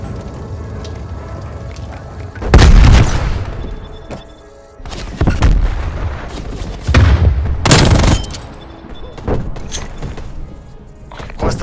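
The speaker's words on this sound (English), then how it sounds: "Artillery targeting active. Net call, incoming artillery." An artillery strike in Call of Duty: Black Ops Cold War lands as a series of loud booming impacts, roughly four or five heavy blasts spaced a second or two apart over low rumbling.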